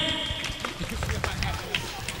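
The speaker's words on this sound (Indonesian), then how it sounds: "Beri tepuk tangan" An audience at a Quran completion ceremony claps in a dense, rapid patter of applause mixed with crowd chatter and voices, steady and fairly close throughout.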